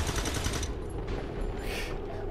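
Rapid automatic gunfire crackles in XCOM 2 for about half a second, then gives way to a dull, muffled battle din, all fairly quiet.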